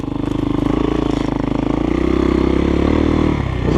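A GEON X-Road 250 PRO motorcycle engine runs loudly and steadily close by as it is ridden, a harmonic drone with small pulses that climbs slightly in pitch and dips briefly near the end.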